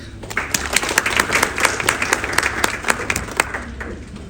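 A conference audience at a traditional medicine and Ayush wellness event breaks into close, lively applause, a dense patter of many hands with louder individual claps, tapering slightly near the end.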